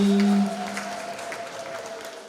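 A church congregation at a confirmation Mass in Dodoma claps together, a full burst of applause that starts loud, eases slightly after half a second, then holds steady to the end.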